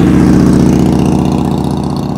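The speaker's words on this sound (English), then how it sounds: "Motorcycles are loud." A loud motorcycle engine on a street, a steady deep throbbing rumble that stays close and dominant with a slight dip in level toward the end.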